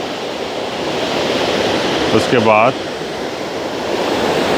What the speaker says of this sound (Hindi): ये एक कैस्केड फॉल बनाई गई है, चैनलाइज किया गया और फिर पानी आगे की तरफ जा रहा है।